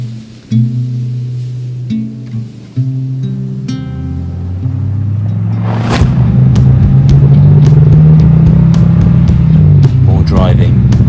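A car drives along mountain roads on the Isle of Skye, its engine rising to a loud, steady rumble and hum that fills the second half, with tonal sounds and knocks early on.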